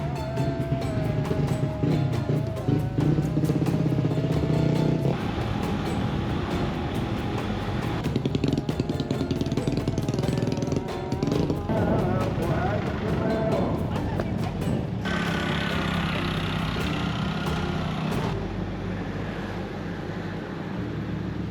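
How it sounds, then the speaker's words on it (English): Traffic on a busy highway in South Sulawesi, with motorcycles droning and buzzing past nearby in a continuous loud rush, broken by shifting engine tones and occasional bursts of horns. "The sounds of birds and rivers replaced by horns and motorcycles."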